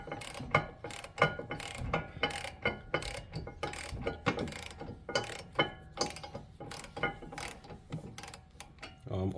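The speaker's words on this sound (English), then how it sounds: "Now these nuts, they need to be torqued at 55 foot-pounds of torque" Torque wrench tightening rear brake nuts to 55 foot-pounds on a Ford Escape, a quick series of close ratcheting clicks in an uneven rhythm, fairly quiet and alone.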